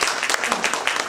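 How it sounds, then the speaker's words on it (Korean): A church audience claps to welcome a guest speaker, a quick burst of scattered hand claps close by, with a voice talking over it. "우리 박수로 좀 환영했습니다"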